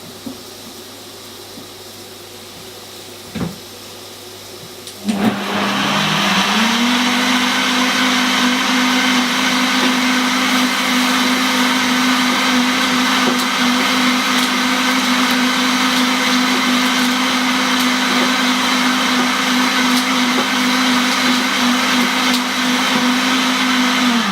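A blender starts after a short quiet pause and runs at a steady high whine, blending a vegan cheesy sauce thickened with flour, loud and close without stopping.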